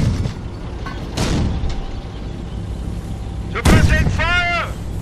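Artillery barrage in Company of Heroes, set during the WW2 Battle of the Falaise Pocket: heavy booming impacts and blasts over a rumbling battlefield, with a loud burst near the end while soldiers shout commands.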